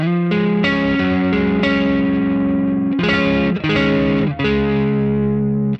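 A distorted electric guitar played through a Quad Cortex capture of a Tube Screamer and amp, using a single pickup, rings out loud chords and sustained notes with a short pause and restrike near the end, no talking.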